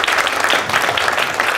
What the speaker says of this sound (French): Il nous reste à applaudir nos 3 invités.